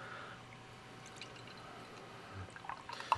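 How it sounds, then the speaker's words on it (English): Imperial stout beer pours into a glass, a faint, steady liquid trickle with small drips and splashes growing a bit louder near the end. "Let's take a look at how it looks being poured"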